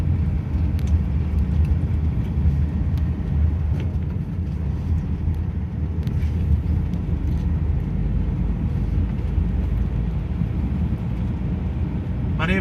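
A car driving the roads of the island of Rousay in Orkney, its engine and tyre rumble steady and close from inside the cabin, with faint occasional clicks.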